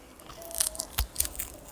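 Someone bites into a chunk of dry, cooked steak fat, with a few short crunchy bites and chewing sounds close up in quiet surroundings.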